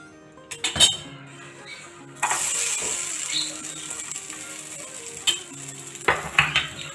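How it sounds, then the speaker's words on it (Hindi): Sliced potatoes tipped into a pan for a potato omelette: clattering scrapes and knocks of utensils against cookware, followed by a soft sizzle as they hit the hot pan, with scattered clinks throughout. "अब हम इसे डालेंगे पैन में।"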